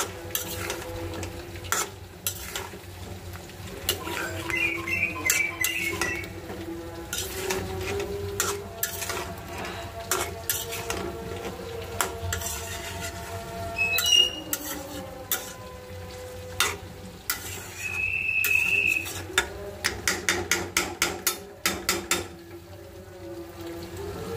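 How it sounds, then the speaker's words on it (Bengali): Vegetables sizzle in a spiced pan while a spatula stirs them, giving steady frying hiss under repeated scraping clicks and clattering strokes that quicken toward the end. "মশলা কষানো হয়ে গেছে, সবজিটা কষিয়ে নিব।"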